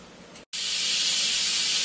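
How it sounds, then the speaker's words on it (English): A pressure cooker blows steam: a softer hiss, a split-second cutoff, then a loud, steady, close hiss of escaping steam that holds at full strength to the end. "it is blowing steam and making a pretty loud noise"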